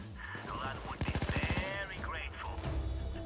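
Automatic gunfire from the video game Payday 2, a rapid burst of evenly spaced shots standing out loud and close over game sounds and background talk.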